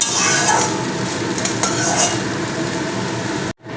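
Vegetables being stirred in a pan for a vegetable chop filling, with a steady close sizzle and scraping under the spoon and occasional light clinks, then a brief drop to near silence at the very end.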